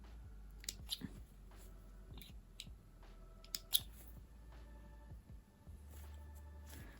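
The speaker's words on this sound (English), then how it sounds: "You just cut these loose threads off." Scissors snipping loose threads off a freshly sewn fabric scrunchie, a few quiet, sharp clicks spaced irregularly over a low steady hum.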